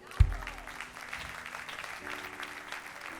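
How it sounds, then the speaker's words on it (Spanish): Applause from a church congregation bursts out sharply, then settles into a steady, moderate clatter of clapping hands that carries on evenly through the short stretch. "¿Podrá aplaudirle al Señor?"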